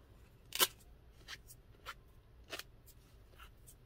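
Scissors snipping fabric for a paper-crafting project, a few short, sharp close cuts spaced apart against a quiet background.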